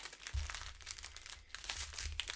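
A plastic bag holding toys is handled up close, giving a soft, continuous crinkling and rustling with a few sharper crunches, quiet and alone without talk.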